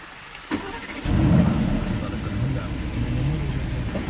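Aston Martin Vantage with an AMG engine starting up: a click, then the engine catches with a strong rev and settles into a deep, steady rumble, loud and close.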